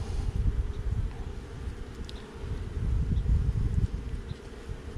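Honey bees swarm around an open hive during a brood inspection, a dense low buzzing drone that stays loud and close and swells and eases slightly, with no speech.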